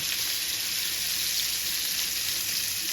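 Fish fries in hot oil with a continuous bright, hissing sizzle, steady and close, with no talking.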